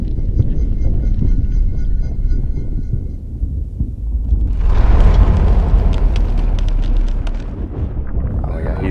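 A claymore mine blast appears in slow motion as a deep, drawn-out rumbling boom that swells midway and then decays slowly, under someone talking.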